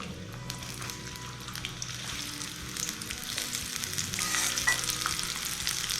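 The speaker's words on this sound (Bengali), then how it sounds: "তেলটা গরম হয়ে গেছে, এবার আস্তে আস্তে আমি পেঁয়াজ কুচিটা দিয়ে দিচ্ছি।" Finely chopped onions frying in hot oil for birista, a dense, even sizzle that swells slightly as more onion goes in, close and steady without any talk.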